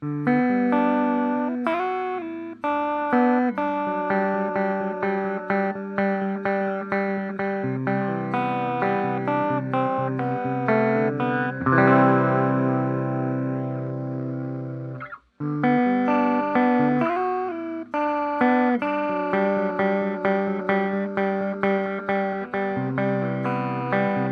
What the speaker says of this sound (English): It sounds a little bit like a ring mod